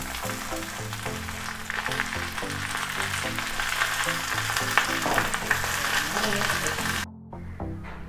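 Karimeen pearl spot fish frying in coconut oil in a pan, a steady close sizzle and crackle with someone speaking over it, cut off by a brief drop near the end.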